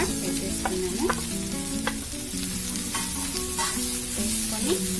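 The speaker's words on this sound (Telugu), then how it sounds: "వేసుకొని కొద్దిసేపు ఫ్రై చేసుకోవాలి." Mint, coriander and curry leaves fry in a pan with a steady crackling sizzle. Scattered clinks and scrapes of stirring run through it, up close, with no voices.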